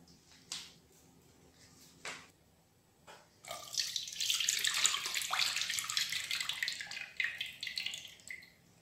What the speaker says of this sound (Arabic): كنغسلها الماء من الروبيني